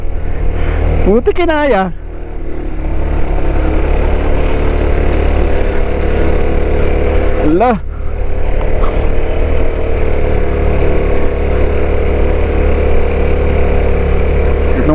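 A motorcycle engine labours continuously up the steep Mt Timbac mountain road, loud and close, with two quick rises in revs. Speech is heard briefly over it.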